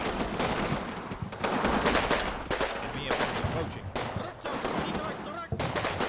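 Gunfire in a Battlefield-style shooter match at Fortress Grosshau: dense rattling volleys and bursts of shots, some close and loud, continuing almost without pause. Faint voices sound under the shooting.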